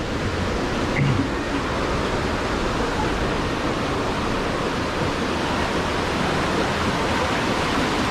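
Water rushes steadily through a gorge near St Martins, New Brunswick, a dense, continuous broadband roar at even loudness throughout with no talk, like a nearby waterfall or torrent.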